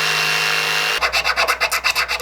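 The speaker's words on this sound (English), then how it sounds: "Then we're to cut out the slot with a jigsaw." Saw cutting a slot in a wooden board with rapid rhythmic strokes, close and loud, after a steady whine of the tool's motor in the first second.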